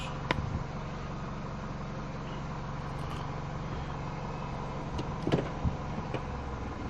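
A Mini Cooper engine runs smoothly after an ignition coil repair that cured its misfire, giving a steady, even low hum with a few light clicks and taps and no talk.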